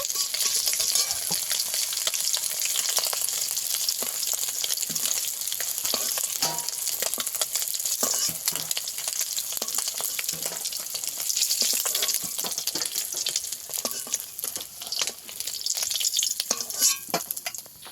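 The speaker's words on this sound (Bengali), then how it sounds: "মাছগুলো আমি এইভাবে লাল লাল করে ভেজে নিয়েছি, তুলে নেব।" Rohu fish pieces deep-frying in hot oil until reddened give off a loud, continuous hissing sizzle with crackling spatters, close and steady throughout.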